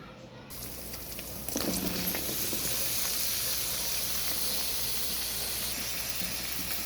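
Sliced ivy gourd (tindora) drops into hot oil with onions, setting off a loud, close, broad hiss that swells after a quiet start and then holds as a steady sizzle, with no voices over it.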